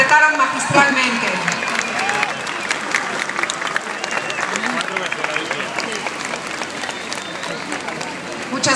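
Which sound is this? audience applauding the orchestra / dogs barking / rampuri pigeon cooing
audience applauding the orchestra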